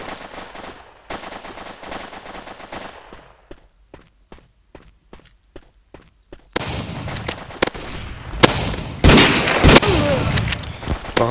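Small pistol gunshots in the mobile shooter game MaskGun, a run of sharp separate shots followed by louder, denser gunfire and impacts, close and punchy.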